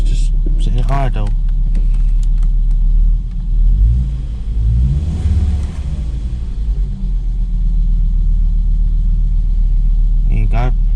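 A Volvo V70/S60 engine sits at idle, holding a steady, loud low rumble throughout, with a voice talking briefly over it near the start and again at the end.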